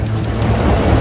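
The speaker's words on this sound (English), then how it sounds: "now the rain hits, and hits hard" Heavy rain pours down hard on a railway grain wagon in Australia, a dense, loud, steady hiss with a low rumble underneath, continuous throughout with no talking.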